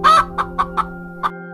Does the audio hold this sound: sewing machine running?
no